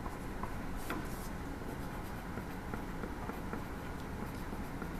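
A pencil writes a name on the back of paper art pieces in a children's classroom, giving a faint, continuous scratchy rubbing with a few light taps over a quiet room hiss.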